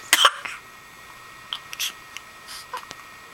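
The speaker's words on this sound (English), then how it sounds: "We hate the hiccups." A child hiccups several times in short, sharp bursts with quiet gaps between them, with soft breathy sounds around them and no talking.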